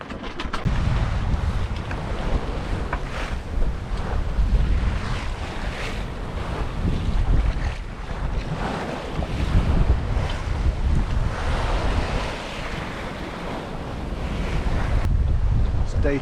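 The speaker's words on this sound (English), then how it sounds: "we're kind of bouncing around and the sails are slatting" Wind and sea noise roar steadily around a sailboat bouncing in swell on the Atlantic, with gusts buffeting the microphone and irregular flapping and knocking as the sails slat in light wind.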